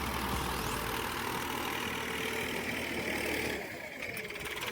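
A tractor engine runs steadily while ploughing a farm field, a loud continuous mid-low drone that dips briefly near the end, with no voices over it.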